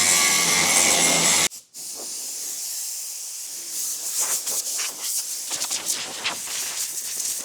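TIG welding aluminium seams on a jet boat hull: a loud, harsh broadband hiss cuts off abruptly after about a second and a half, then a steadier, quieter arc hiss with fine crackling continues close by.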